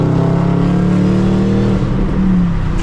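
A 2014 Shelby GT500 V8 revs loudly up close, a deep rumbling roar that climbs, then eases and builds again with a low, heavy tone.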